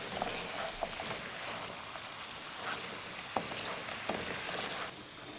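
Fried pork ribs sizzle in bubbling malt syrup in a pan, a steady, faint crackle with a few soft knocks as they are tossed.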